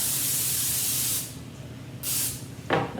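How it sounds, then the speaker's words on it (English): Cooking oil sprayed from a can onto sliced mushrooms and zucchini for veggie chips: a long hissing burst, then a second short burst after a pause, close and clear with no talking. "I'm adding another layer of spray on top."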